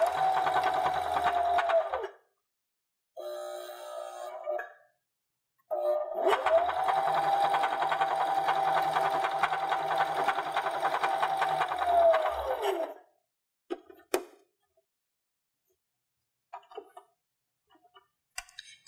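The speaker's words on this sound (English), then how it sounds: "I'm going to sew the step with my regular presser foot" A sewing machine with a regular presser foot stitches a fabric sunglasses case in long steady runs, stopping briefly between bursts, followed by a few small clicks and taps near the end.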